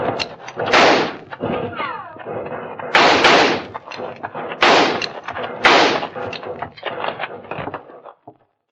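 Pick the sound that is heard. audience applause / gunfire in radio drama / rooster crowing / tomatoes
gunfire in radio drama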